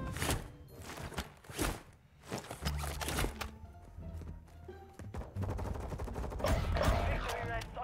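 Gunfire in Warzone 2: several bursts and single shots crack out at varying distances, mixed with game effects and footsteps, at a fairly low level.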